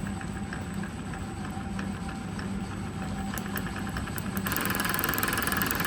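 A Centurion ARV engine runs at low RPM, a steady muffled idle with faint knocking and vibration that gets slightly louder and rougher near the end.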